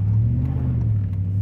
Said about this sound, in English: it takes the truck a little bit of time to get going